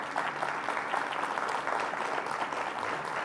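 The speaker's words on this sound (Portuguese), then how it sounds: "Você pode dar um aplauso a ele?" An audience applauds warmly and continuously, a thick, even roar of many hands clapping throughout.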